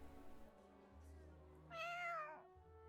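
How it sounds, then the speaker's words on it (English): A cat meows once in a video game, a drawn-out, mid-pitched cry of under a second rising over a low, steady game soundtrack hum. "Oh, what a cute kitty."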